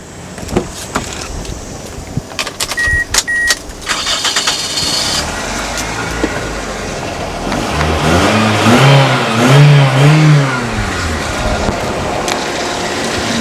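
Switches and clicks come first, then a 2001 Toyota Corolla Altis engine cranks, starts and revs up and down a few times before settling into a rough idle, close by.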